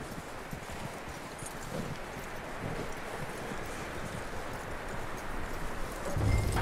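Horse hooves clip-clopping at a steady walk in the video game Red Dead Redemption 2, a continuous close rhythm of soft thuds over a rustling outdoor bed, with no talk.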